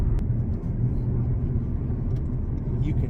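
Steady low drone of the gasoline range-extender generator in a 2017 BMW i3 REx while driving, a constant rumbling hum under road noise with no talking.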